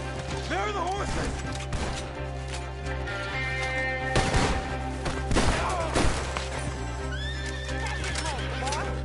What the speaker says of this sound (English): There are the horses!